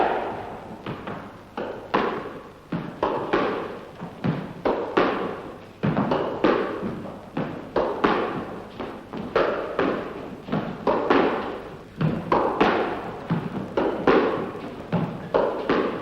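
Squash ball struck back and forth in a two-player practice rally with alternating drives; sharp, evenly spaced thuds of racket and front wall repeat at close range for the whole stretch, with no talk.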